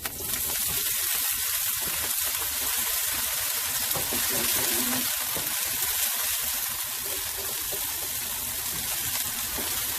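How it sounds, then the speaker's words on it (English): Scallions fry in a nice hot pan with a loud, steady sizzle that hisses evenly for the whole stretch, close up and without pauses. "So our pan here is nice and hot, so we're going to add some scallions."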